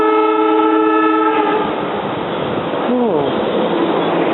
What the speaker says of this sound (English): It's an Elwyn train coming in.